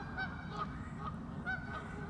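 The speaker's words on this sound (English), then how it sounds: "cackling goose. They're rare here versus Canada, which is very, very common." Cackling geese honk faintly at a distance in a winter wetland, giving a few short, high yelping calls spread over a couple of seconds against quiet background noise.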